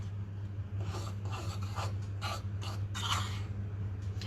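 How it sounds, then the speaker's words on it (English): Baking soda being mixed into flour in a home kitchen, heard as faint, soft scraping and rubbing strokes in an uneven rhythm over a low background hum. "I will add my baking soda into my flour and I will mix it properly."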